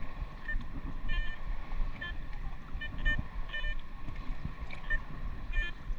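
A Garrett Vortex metal detector held in shallow water gives short, repeated high beeps that keep going in an uneven rhythm, over a steady wash of water noise.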